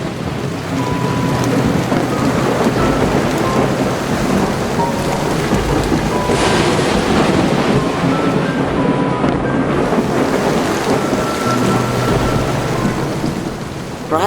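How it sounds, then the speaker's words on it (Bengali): Steady heavy rain pours down on surfaces while thunder rumbles through the storm, with a louder crack of thunder near the middle, continuous and loud with no voices. "বাইরে তখন মেঘ কালো করে এসেছে, ঝিরিঝিরি বৃষ্টিও শুরু হয়েছে আর বিদ্যুৎও চমকাচ্ছে।"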